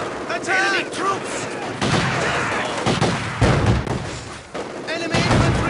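Machine gun fire in the World War II strategy game Company of Heroes, sharp bursts and thuds clattering under shouted soldier voice lines, loud and close with overlapping battlefield noise.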